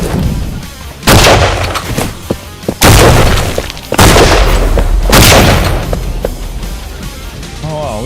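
Gunshots hitting a mushroom in a roguelite game, several loud booming blasts spaced a second or two apart, each with a crashing, shattering tail, over steady game noise.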